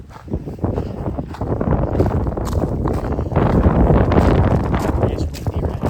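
Wind gusting across an exposed ridge just below the summit of Mount Rogers, Virginia's highest peak, on the Appalachian Trail: steady broadband rushing that swells stronger in the second half, buffeting the microphone.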